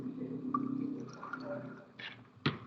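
Water trickles and drips into laboratory glassware during a chemistry rinse, a soft liquid filling sound up close with a couple of sharper splashy bursts near the end.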